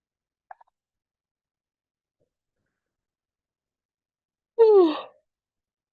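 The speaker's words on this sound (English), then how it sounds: "So yawning is actually a sign that the nervous system is really relaxed." A person yawns during a meditation session, one drawn-out, breathy vocal yawn falling in pitch, preceded by a faint brief click in otherwise near silence.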